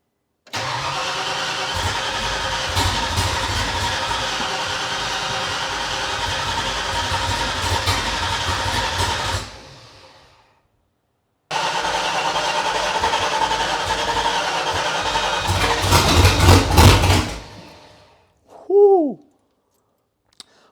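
An engine cranks and runs roughly for several seconds, cuts out, then starts again and builds louder before stopping, followed by a couple of short tonal squeaks.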